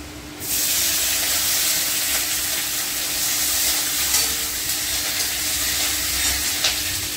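Garlic and onion hit a hot pan for chilli chicken, bursting into a loud, steady sizzle that holds without a break, with no voices.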